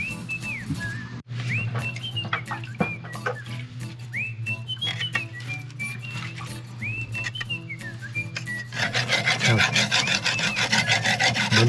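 A sickle is honed on an old whetstone with repeated rasping strokes in a steady rhythm, close and clear, with short metallic squeals between strokes and the scraping growing denser and louder toward the end.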